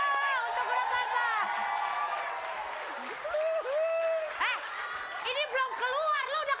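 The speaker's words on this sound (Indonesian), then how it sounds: "tunggu sebentar, tepuk tangan dulu dong untuk grup Barba." Studio audience applause for a comedy group on an Indonesian TV comedy show, steady clapping and crowd noise throughout, with whoops and cheers rising over it and a host's voice cutting in near the end.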